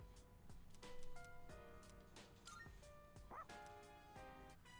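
Dog in the video game Persona 3 Reload, a few short yips and barks scattered over tinkling chime-like music with soft effects, fairly quiet.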